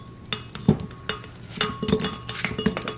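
A full tray of frozen Mountain Dew ice cubes clatters into a blender, with sharp knocks and clinks of the cubes hitting the jar, close and alone.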